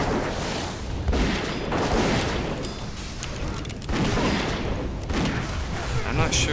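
A World of Warcraft hunter shooting ogres in Blackrock Caverns, with dense, continuous combat noise: repeated ranged shots and impact booms layered over game music and effects, with a voice talking over it.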